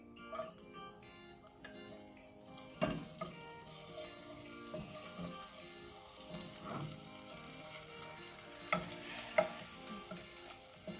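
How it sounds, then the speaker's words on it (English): Green chilies fry in about a tablespoon of oil in a pan, giving a steady soft sizzle with occasional utensil clinks and stirring scrapes, fairly quiet and with no talking. "in this pan I put like 1 tablespoon of oil and about 2 to 3 green chilies."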